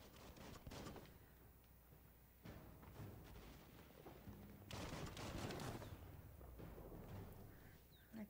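Gunfire in the video game Biomutant: dense, sustained volleys of shots with booming impacts rattle on continuously for several seconds, loud and unbroken, with no talking.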